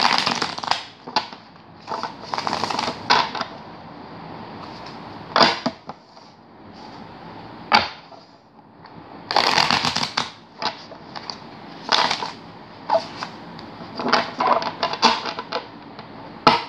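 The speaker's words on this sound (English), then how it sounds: "Shuffle a couple more times here." A deck of cards shuffled by hand, close and crisp, in repeated riffling bursts separated by short pauses, with no talking.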